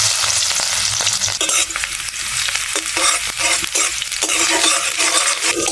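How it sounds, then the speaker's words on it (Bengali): Chopped onions with nigella seeds frying in oil in a kadai, a dense continuous close sizzle broken by repeated scraping stirs, with no voices. "পেঁয়াজটা এখানে লাল করে ভেজে নিয়েছি"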